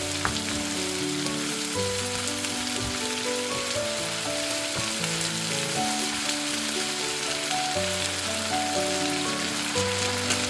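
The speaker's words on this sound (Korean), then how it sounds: "재료를 골고루 섞어가며 볶아주세요." Cabbage with buldak sauce stir-frying in a pan: a steady, dense sizzle and crackle running throughout, close and loud, with no talking.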